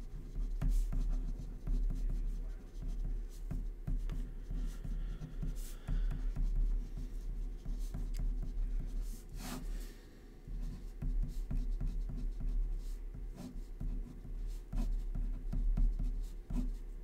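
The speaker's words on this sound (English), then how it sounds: "I'll take time to write this out one last time." Chalk or marker writing out equations on a board during a thermodynamics lecture, a steady run of tapping, scratching strokes close by over a low room hum, with no talk.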